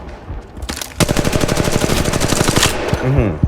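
A fight in Apex Legends erupts into a loud, fast stream of automatic gunfire after a few scattered shots, rattling evenly for over two seconds before a brief voice cuts in near the end.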